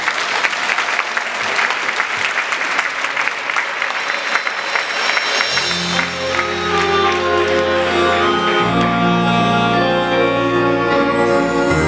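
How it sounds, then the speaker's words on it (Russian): An audience at a brass orchestra concert applauds with a dense, sustained clatter of clapping; partway through, sustained brass and orchestral tones enter underneath and build as the applause continues. "встречайте бурными, нескончаемыми аплодисментами"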